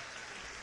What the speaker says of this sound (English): you've earned yourself a good round of applause